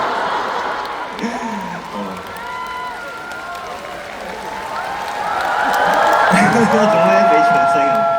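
Classroom audience clapping and cheering, a sustained wash of applause with scattered whoops and voices that swells toward the end.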